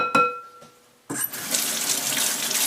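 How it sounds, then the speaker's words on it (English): A tap clinks once before water starts running hard into a kitchen sink to rinse a spoon used for chocolate ice cream, then a loud, steady splashing rush continues, with no one speaking. "Give it a good rinse."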